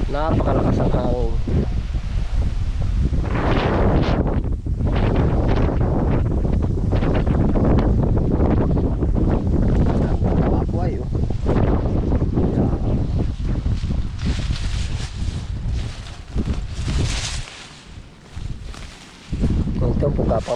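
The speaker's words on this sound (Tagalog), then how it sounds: "Napakalakas ang hangin." Strong wind buffets the microphone in continuous loud gusts, with rustling underneath and a voice speaking at times.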